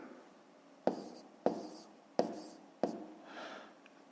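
Quiet writing of a fifth-grade multiplication solution: four distinct, crisp taps spaced about half a second apart over a soft, steady hiss, with a faint scratch trailing at the end.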